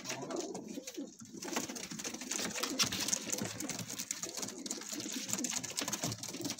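Pigeons for sale in Amritsar coo softly amid a busy, noisy background, with bird sounds continuing steadily throughout and no clear speech.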